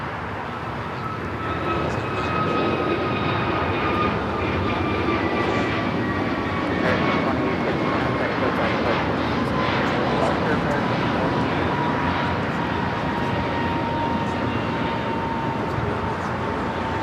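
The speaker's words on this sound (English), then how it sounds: "Next takeoff here on the south side is American Airlines flight 2850, an A321 Neo heading to Philadelphia" American Airlines A321neo jet taking off at LAX, a loud sustained engine roar with a rising whine that holds steady from near the start, heard from close by at the airfield.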